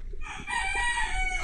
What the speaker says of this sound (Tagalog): Nagising na mga manok. Sunod-sunod na ng toraok.